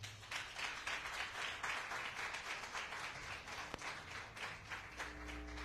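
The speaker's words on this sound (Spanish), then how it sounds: "Denle un fuerte aplauso al Señor." A church congregation applauds during worship, a steady, rhythmic wash of clapping that continues for several seconds with a low musical tone beneath it.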